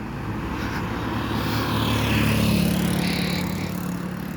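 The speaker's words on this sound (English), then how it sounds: "you will bear with me about the noise, the traffic noise" Constant loud traffic roar with a low engine hum, swelling midway as a vehicle passes close by, then easing slightly; no voices.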